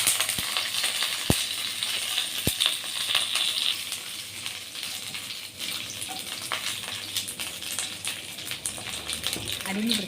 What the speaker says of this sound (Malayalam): ഒരു പാൻ അടുപ്പിൽ വെച്ച് ചൂടായതിനു ശേഷം എണ്ണ ഒഴിച്ച് കടുക് പൊട്ടിച്ച് പച്ചമുളകും കറിവേപ്പിലയും ഇട്ട്